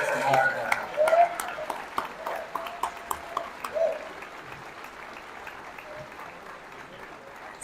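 Commencement audience clapping for employees, uneven and fading, with scattered distinct claps and a voice speaking over the start before the applause thins out.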